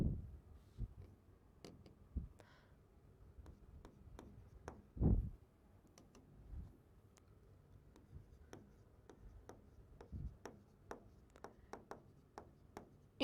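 Pen writing on paper during a physics lesson on dielectrics, producing quiet scratching strokes and sharp little taps in an irregular rhythm, close up with no voice.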